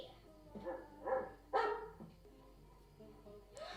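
A small dog in a Mad Men scene gives a few soft barks and yips at close range, mixed with quiet voices and light background sound.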